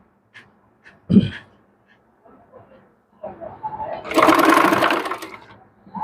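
A sewing machine stitches piping onto a dress neckline. A few soft clicks and handling sounds lead into a loud, close, steady stitching whir that lasts about two seconds before it stops.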